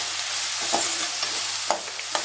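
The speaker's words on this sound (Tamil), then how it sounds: "வெங்காயம் நல்லா வதங்கியிருக்கும்" Chopped onions sautéing in hot oil with fennel seeds for a Chettinad quail gravy, a steady close sizzle broken by a few soft scrapes of stirring, with no voices.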